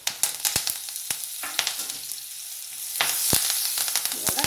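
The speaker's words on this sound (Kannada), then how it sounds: "ಹಾಗೆ ಸ್ವಲ್ಪ ಕರಿಬೇವು ಹಾಕ್ತಾಯಿದ್ದೀನಿ." Curry leaves sizzle and crackle in hot oil for an avarekalu and chakkotha soppu saru, a steady close frying hiss punctuated by sharp pops that grows denser toward the end, with no talking.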